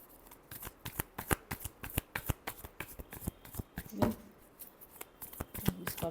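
Tarot cards being shuffled by hand, a steady stream of crisp riffling flicks and soft slaps, close and fairly quiet, with no voice over it.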